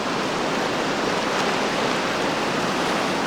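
Whitewater river rapids during a rafting trip, a big standing wave train heard as a steady, dense roar of rushing water, loud and unbroken with no talk.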